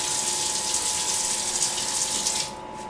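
A tap runs steadily into a sink, a close hissing gush that cuts off near the end, leaving quieter ambience.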